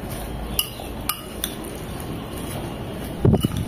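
Guava mash being mixed with rock salt and chili in a bowl, a few light clinks of a utensil against the dish followed by a short burst of wet squishing at the end.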